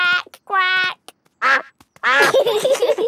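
A cartoon voice imitates a duck, giving several loud nasal quacks in quick bursts with short gaps between them, close and clear.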